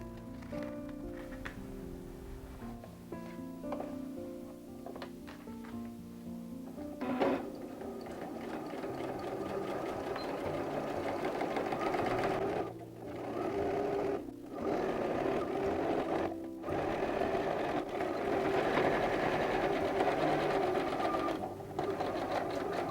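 A sewing machine stitches seams of recycled denim for an upcycled jeans bag, its needle whirring in a steady close-up run with a few short pauses and restarts, loud and alone.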